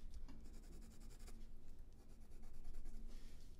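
A Faber-Castell Polychromos colored pencil rubs and scratches across white gesso in quick, steady back-and-forth strokes, faint and close.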